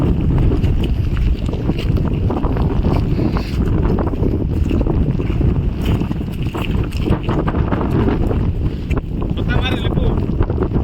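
Strong cyclone wind roars continuously into the microphone beside the water during stormy weather while out net fishing, loud and buffeting, with faint voices underneath.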